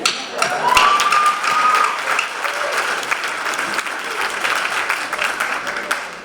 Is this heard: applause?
yes